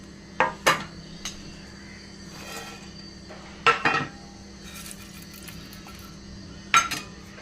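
A spoon scrapes and clinks against a pot while roasted wheat flour for laddu is mixed, giving a few sharp metallic taps in small clusters over a quiet, faintly humming kitchen background.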